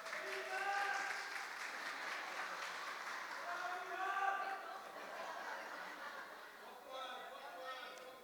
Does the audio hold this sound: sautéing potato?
no